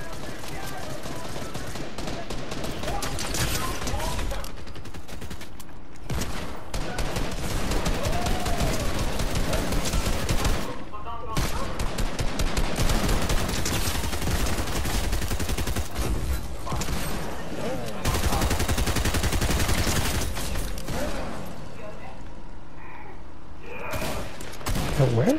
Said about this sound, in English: That looks, sounds like a shotgun. Oh, it's a hand cannon.